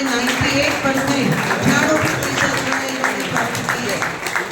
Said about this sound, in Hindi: अब महारानी लक्ष्मीबाई से इनके लिए जोरदार ताली